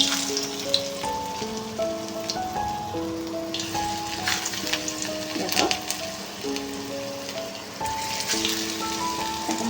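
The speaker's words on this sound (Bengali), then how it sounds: "তেল গরম হয়ে গেছে এখন আমি এক এক করে এই যে দিয়ে দেবো তেলের মধ্যে" Food pieces fry in hot oil, giving a dense, continuous crackling patter like rain on a surface, fairly loud and close, with occasional sharper pops and a faint tonal layer underneath.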